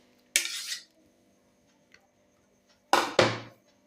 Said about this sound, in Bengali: পেঁয়াজ আর টমেটোটাকে আমি ভালো করে একটা গ্রেটারের সাহায্যে গ্রেট করে নেব